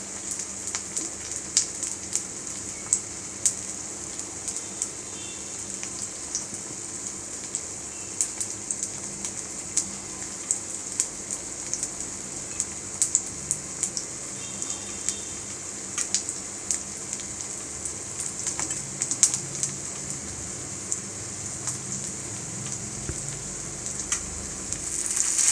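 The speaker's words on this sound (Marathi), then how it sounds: "सर्व बाजूने शिजवून घ्यायचं, फ्राय करून घ्यायचं" Food for a Marathi fasting thali fries in oil in a pan, a soft, steady hiss with scattered light crackles and pops throughout, close and moderately quiet, with no voices.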